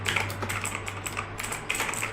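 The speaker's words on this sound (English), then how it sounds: "so I will type something here for experiencing that typing" Rapid typing on a TVS heavy duty mechanical keyboard connected to a laptop, a dense run of close, crisp key clicks with a steady low hum underneath.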